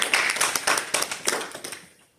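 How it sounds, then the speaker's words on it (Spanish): A church congregation claps in a short burst of sharp, fairly regular hand claps that fades out over a couple of seconds, heard at a moderate distance. "Den un aplauso a Cristo"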